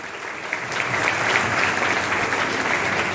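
Warm, even applause fills an award ceremony hall, a crowd clapping steadily and loudly across the whole stretch with no talking over it.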